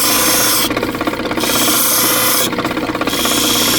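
A power tool grinds the sharp edges off a stone in a loud, rasping drone, with two bursts of harsher scraping contact against the rock.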